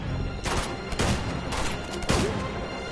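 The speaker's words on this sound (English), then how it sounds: "That guy doesn't give a fuck of shooting his own men." Enemy gunfire in Uncharted: The Nathan Drake Collection, several sharp, loud shots cracking out in a quick irregular volley, one about every half second, over a constant background din.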